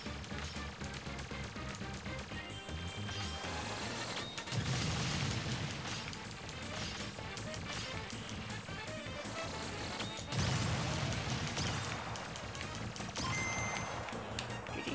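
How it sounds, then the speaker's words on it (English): Explosions in Super Smash Bros. Ultimate boom over dense, continuous game music, with two heavier bursts standing out about six seconds apart amid the busy action sounds. "Explosions everywhere!"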